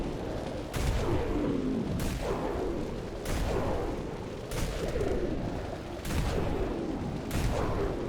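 Leviathan Launcher firing in the Dead Frontier shooter game, a series of six heavy blasts at a steady rhythm about one to one and a half seconds apart, each trailing into a rumble.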